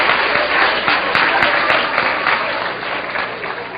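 A lecture audience breaks into loud, dense applause that fills the room, holding steady for several seconds before easing off slightly toward the end.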